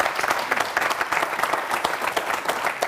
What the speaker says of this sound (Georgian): ჩვენ მიწაწყლის შვილს, ბატონ ირაკლი ალასანიას ტაში მეგობრებო.